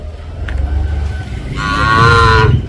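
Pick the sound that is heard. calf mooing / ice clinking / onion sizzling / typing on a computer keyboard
calf mooing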